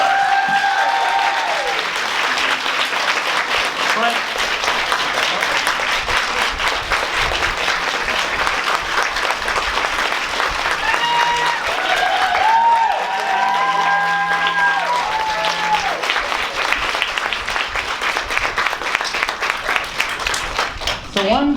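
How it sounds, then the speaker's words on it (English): A large audience at a convention panel gives a long, sustained round of applause, dense clapping with some cheering throughout, while voices briefly sound over it partway through. "please, everybody, give them a huge round of applause"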